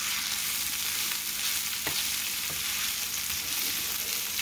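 Shepherd's pie ingredients stirred together in a pot over heat, giving a steady close sizzle and bubbling with a couple of brief scraping knocks, no talking.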